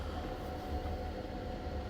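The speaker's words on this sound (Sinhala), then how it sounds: "අන්න දැන් මෙට්‍රෝ එක ආවා" An airport metro train pulls into a terminal station at Bangkok airport, a steady, faint low rumble with no talking.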